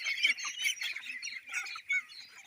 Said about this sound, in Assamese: হাঁহকেইটা